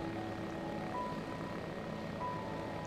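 A Searey amphibious homebuilt airplane with a Rotax 914 engine makes a three-point landing, its engine droning steadily at a moderate distance with a faint, even hum and a couple of brief tonal whines.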